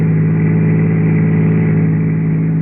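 Car engine for a radio drama scene, a loud, steady, unbroken hum of a vehicle driving along with no voices over it.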